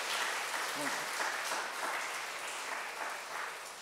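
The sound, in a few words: audience applauding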